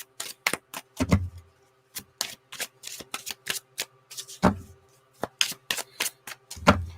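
Something is shuffled by hand up close, producing crisp dry riffling clicks and taps in irregular quick bursts with brief silent gaps, and no voices over it.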